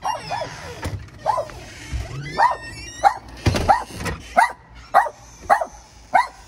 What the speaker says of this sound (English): The dogs start barking and jumping